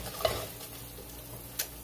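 Ginger and a mix of spices fry in a pan with a faint, soft sizzle, broken by two quick scrapes of a spoon stirring.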